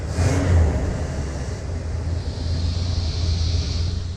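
A custom 1979 Ford Pathfinder Quadravan 4x4 engine runs steadily at idle, giving a continuous low rumble with a faint hiss of wind over the microphone.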